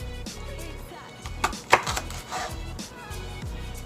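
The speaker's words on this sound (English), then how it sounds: "I will give an example on how I slice the jalapenos. I slice it lengthwise." A knife slices through fresh jalapenos lengthwise on a cutting board, giving a few crisp, close cuts and taps over a low steady background hum, with no voices.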